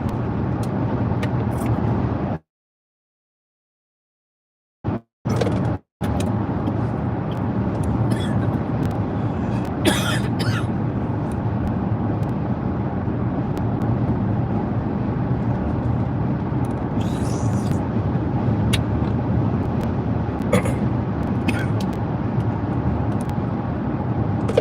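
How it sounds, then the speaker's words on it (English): Dense motorway traffic on the congested M42 through Birmingham, heard from inside a moving car as a steady broadband road roar with passing vehicle swells, briefly cutting out near the start. "Look at all that traffic on the other side."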